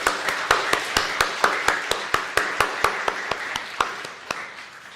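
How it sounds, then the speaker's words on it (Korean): A church congregation at a Christmas service claps to welcome newlyweds and a deacon: sharp, evenly spaced claps in a steady rhythm, about eighteen in a row, fairly close and moderately loud. "우리 축복의 박수로 맞이하겠습니다."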